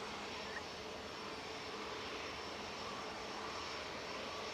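A Cathay Pacific airliner with a pair of Rolls-Royce jet engines gives off a steady, broad roar that holds even and unbroken throughout, moderately distant, with no talk.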